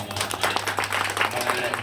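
Audience at a religious discourse on the story of Renukambal clapping together in an uneven patter, with a low hum running underneath.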